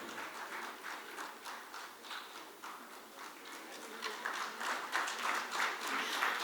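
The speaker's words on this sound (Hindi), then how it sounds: "मैथिली के लिए तालियां इसलिए भी ज्यादा होनी चाहिए" At an award ceremony, an audience applauds in a soft, steady patter of many hands, heard somewhat distant and growing slightly louder toward the end.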